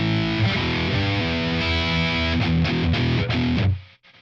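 An electric guitar plays through a Bogner amp model loaded in Neural Amp Modeler, giving a loud, heavily distorted, sustained high-gain tone with chords and strummed stabs before it cuts off abruptly.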